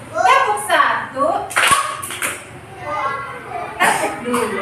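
Children in a classroom clapping a short teacher-led clap routine, a few sharp claps in quick bursts mixed with a teacher and kids talking over and between them.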